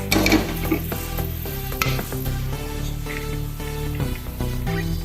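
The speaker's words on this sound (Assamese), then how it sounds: "এনেকৈ অলপ সময় লং ইলাইচি দালচেনি ভাজি ল'ম।" Cloves, cardamom and cinnamon crackle and sizzle in hot oil, with scattered pops and clicks over a steady low tonal hum.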